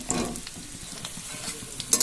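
Mango pieces for a sweet-sour-spicy pickle go into hot oil with panch phoron, giving a brief close sizzle with crackles and light stirring scrapes, moderate in volume, no talk.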